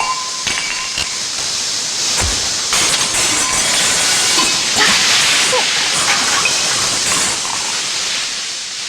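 A pressure cooker vents steam in a steady, loud hiss throughout, with faint clicks and rattles scattered beneath it.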